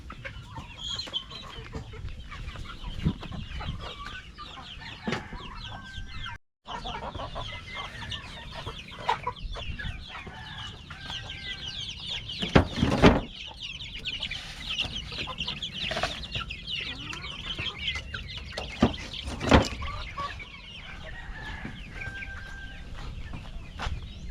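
Upgraded free-range chickens cluck and chatter nearby at a farm during hot weather, with overlapping birds calling continuously and occasional louder squawks over a busy background.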